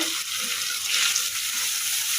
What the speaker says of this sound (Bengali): পেঁয়াজটা ভাজা ভাজা হয়ে গেছে এখানে আদা রসুন হলুদ মরিচ আর জিরা দিয়ে